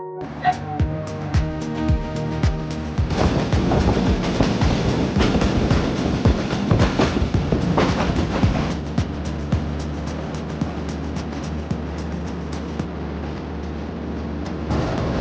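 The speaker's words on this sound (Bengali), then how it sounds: "উত্তরবঙ্গের অন্যতম সুন্দর railway station Rajshahi railway station আমরা এখন চলে আসছি" A train rumbles along at Rajshahi railway station in Bangladesh with a rhythmic clatter of wheels on track, loud and continuous, with a tonal hum standing out at the start.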